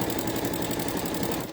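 A sewing machine runs steadily while stitching quilt binding, a fast even mechanical whir with rapid needle ticking, close up and alone, slowing at the very end.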